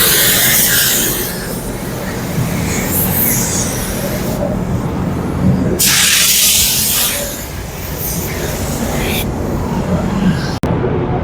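A Harbor Freight Black Widow 2.0 paint spray gun lays down a mid coat, its loud airy hiss coming in long bursts over a busy, noisy background.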